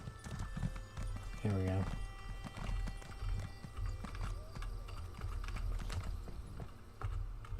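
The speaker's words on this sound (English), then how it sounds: "Check it out, I can just whip a horse out in town." A horse's hooves clip-clop steadily through a town in the Elder Scrolls Online game, a brisk rhythmic trot under a voice, with a short whinny early on and soft keyboard clicks.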